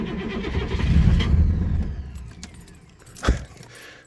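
An Oldsmobile 5.7 diesel, running on cold cooking oil, cranks over in a cold start, a loud low rumbling churn for about two seconds that fades. A sharp bang and light metallic jingling follow.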